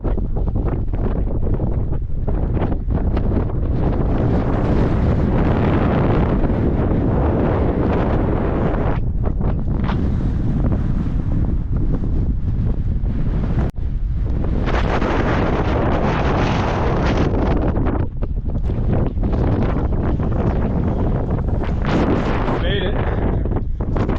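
Heavy wind buffets the microphone on a mountain trail in the Adirondack High Peaks, a loud, continuous low roar that surges and dips in gusts throughout.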